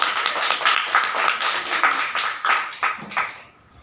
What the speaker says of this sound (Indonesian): Ini kejadian tepuk tangan aja ya.